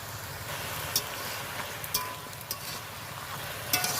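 Spinach and vegetables with salt, turmeric and chili powder stirred in a pan, a quiet low sizzle with a few sharp utensil clicks against the pan, with no one speaking.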